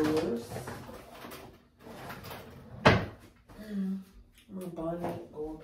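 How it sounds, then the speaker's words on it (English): A drawer slams shut once with a sharp, loud knock while lights are put away in a bedroom, among softer handling rustles, and a person talks before and after. "I'm gonna put that in one of the drawers."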